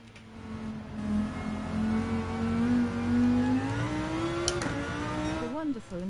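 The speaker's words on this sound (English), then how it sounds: "The wonderful and familiar sound of understeer" A Gr3 race car in Gran Turismo 7 drones at steady high revs while understeering, its engine tone rising slowly and tires scrubbing, with a voice talking over it.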